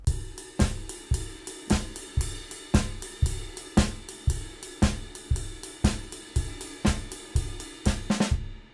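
A drum kit plays a shuffle too straight, its notes spaced evenly. It makes a close, loud, steady chain of kick-and-cymbal hits with no swing, and the cymbals ring off at the end.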